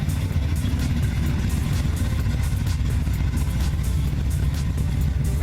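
A 1958 Chevy Apache Fleetside pickup engine runs steadily at idle nearby, a loud, even low rumble with a fast pulsing beat that holds throughout with no talking.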